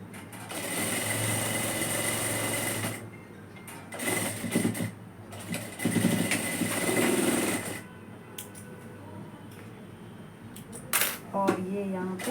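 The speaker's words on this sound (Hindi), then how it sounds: "इस वाली स्लीव पे भी सिलाई लगाते जाओगे।" A sewing machine stitches the sleeve of a peplum top in fast, loud whirring bursts that stop and start, with someone speaking in the pauses.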